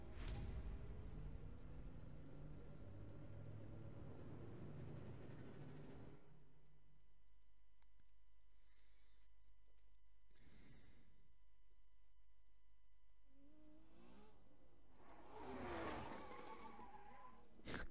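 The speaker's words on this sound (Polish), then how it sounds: "wyjedźmy sobie tym autem na ulicę" A Saleen S7 supercar in the racing game The Crew Wild Run drives on a city street, its engine droning loudly at first, then dropping to a quieter hum with brief tire noise and a burst of revving near the end.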